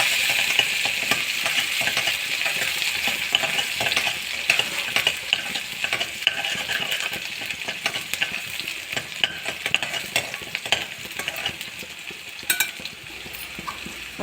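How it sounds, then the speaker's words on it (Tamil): Onions sautéing in hot oil after mustard seeds have popped, a loud, steady, close sizzle with a spatula stirring and scraping the pan throughout. "கடுகு பொரிஞ்சதும் வெங்காயம் சேர்த்துக்கோங்க. வெங்காயம் நல்லா வதங்கிட்டுங்க."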